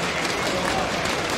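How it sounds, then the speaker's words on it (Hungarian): Esports crowd at a CS:GO final erupting in loud, dense applause and cheering, a short burst filling the whole moment. "És a közönség felrobban."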